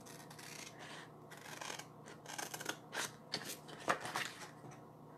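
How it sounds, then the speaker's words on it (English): Scissors snip paper circles along a line for a chalk-paste craft project, giving a series of soft, close crisp cuts and rustles in an uneven rhythm, quiet and without talk. "So you take your scissors and you cut them along the line here."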